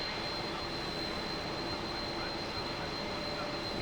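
MD-11 jet engines at low power on approach, in a flight simulator, give a steady, even roar with a thin high whine running through it, unbroken throughout.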